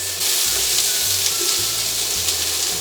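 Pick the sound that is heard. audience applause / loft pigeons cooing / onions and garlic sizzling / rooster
onions and garlic sizzling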